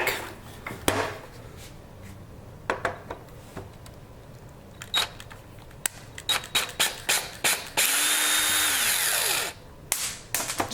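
Power screwdriver backing out cabinet hinge screws, one short whirring run in the middle amid scattered close taps, clicks and clatter of handling the screws and hinge.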